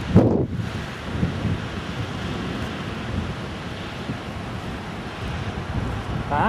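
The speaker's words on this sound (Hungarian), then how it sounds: "Fúj a szél miatt, kicsit hűvösebb a tél." Steady wind buffets the microphone outdoors on a cool day in Norway, a continuous low rumbling gust with a sharp burst at the start and no speech.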